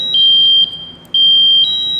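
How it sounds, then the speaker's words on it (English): A loud, piercing electronic alarm on firefighter turnout gear sounds in two long, steady beeps separated by a short gap, close by. "There goes the first alarm."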